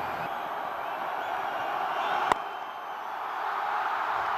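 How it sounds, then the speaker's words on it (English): Cricket crowd at an India vs Pakistan one-day international cheering a six by Yunus Khan, a distant, even wash of stadium noise holding steady, with one sharp knock cutting through midway. "A bit of excitement from the crowd"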